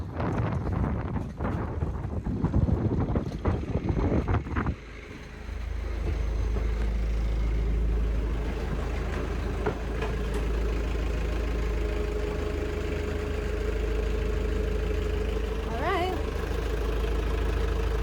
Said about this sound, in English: Engine turns on.